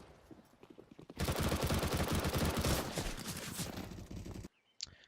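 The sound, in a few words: SMG gunfire in Counter-Strike (video game)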